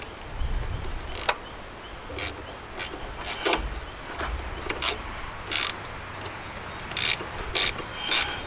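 Small hand ratchets clicking in quick bursts while working on a project car, sharp metallic ticks repeating close by over a low rumble, with short pauses between runs.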